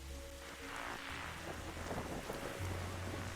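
Steady rain falling at night on a rooftop in a video game, a dense continuous hiss with low rumbling under a quiet music drone, no voices.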